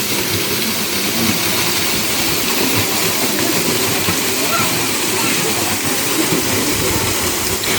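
Rushing water pours over the top of a waterfall about 45 feet tall on the Isle of Wight, a loud continuous broadband roar that holds steady the whole time.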